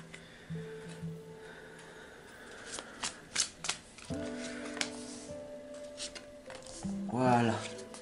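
Oracle and tarot cards being shuffled for a card reading, a few soft riffling and slapping bursts close by, with a voice speaking briefly over them.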